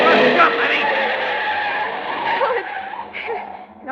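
Car tires skidding as the car swerves toward pedestrians, a loud screech of a few seconds in an old radio drama, with voices talking over it.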